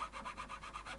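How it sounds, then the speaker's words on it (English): A nut file rasps back and forth in a string slot of a rubbery guitar nut on an Epiphone SG 400, making quick, even strokes about every tenth of a second, close and quiet. "I'm going to use the correct nut file for that sort of gauge."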